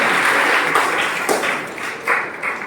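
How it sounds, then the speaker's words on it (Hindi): An audience at a school felicitation ceremony applauding the teachers; loud, close clapping with uneven bursts and individual sharp claps standing out. "इनके लिए भी एक बहुत जोरदार से तालियां होनी चाहिए"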